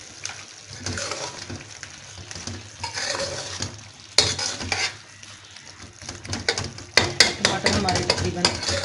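Mutton achari karahi masala with softened tomatoes sizzles in a pan while a spoon stirs and scrapes the metal, giving rhythmic clanks over a continuous frying hiss with louder bursts of stirring near the end.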